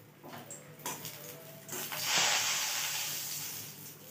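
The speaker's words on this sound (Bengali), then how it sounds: "তেলটা গরম হয়ে গেছে। এখন আমি বড়িটা দিয়ে দিচ্ছি।" Bori lentil dumplings dropped into hot oil, a few light clinks and clatters followed by a swelling loud hiss of sizzling that stays steady and slowly fades, close with no speech.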